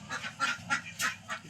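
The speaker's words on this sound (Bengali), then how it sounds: "খুব সুন্দর দেখা যাচ্ছে হাঁসের বাচ্চাগুলো" A handful of duck and duckling quacks, around five short calls in an even rhythm, sound quietly and alone.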